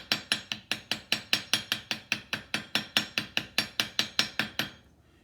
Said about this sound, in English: all I'm going to do is take the flat of this hammer